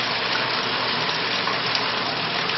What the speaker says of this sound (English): Start the flow of water and let the instrumentation collect the data